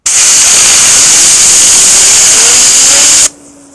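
An air compressor blasts a fidget spinner up to very high speed, a loud, steady hiss with a faint rising whine beneath it, cutting off abruptly near the end to leave quiet.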